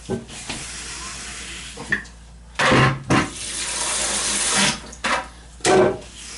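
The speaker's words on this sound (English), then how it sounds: "Gonna pump the water out of the toilet." Bursts of gushing, hissing water come in several short surges with quieter gaps between, as water is pumped out of a toilet.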